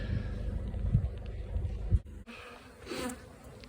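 Honey bees swarm and buzz around sixteen freshly unloaded hives brought back from the moor, a dense steady drone close by that briefly drops away before resuming.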